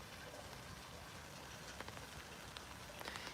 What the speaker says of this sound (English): The drainage is going pretty mental.